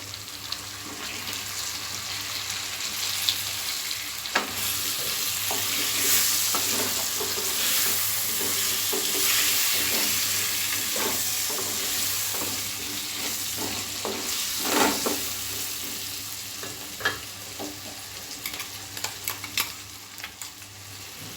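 Pumpkin tipped into a hot pan for a sabji, frying with a constant sizzle while a spoon stirs and scrapes in irregular strokes, with occasional clinks against the pan; no voices.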